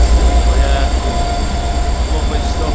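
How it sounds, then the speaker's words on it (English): A train rumbles loudly through Carnforth Station, a steady, heavy roar of rail noise with some wheel squeal that stays close and continuous throughout. "Train's coming now, apologies for the noise"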